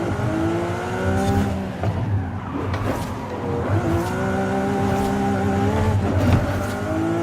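A McLaren 720 GTR race car in the video game Forza Horizon 5 revs loudly and continuously, its engine pitch rising and falling through gear changes across the whole stretch with no talk over it.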